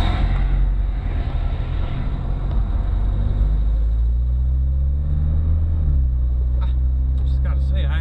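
A classic car's engine rumbles steadily from inside the cabin while driving, a loud low drone with a slight shift in pitch partway through as the car changes pace.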